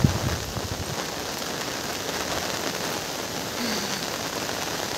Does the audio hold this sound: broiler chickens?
no